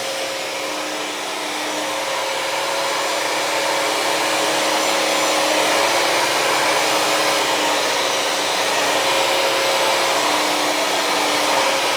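A Bissell CrossWave HydroSteam wet dry vacuum runs in steam mode, a loud, steady whirring motor drone continuing without pause, with a faint high whine riding on top.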